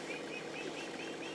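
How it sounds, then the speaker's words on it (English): Small turkey poults peeping behind a person at a quilting frame, repeated thin high chirps in a quick steady series, soft and fairly close against a light background hiss. "Yes, you can hear my little turkeys peeping."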